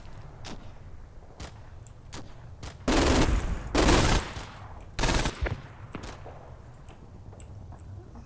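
Heavy machine gun fire in the Combat Mission Final Blitzkrieg game at Lanzerath Ridge: three loud sustained bursts of rattling gunfire, with scattered single sharp cracks and distant shots between them, no talking.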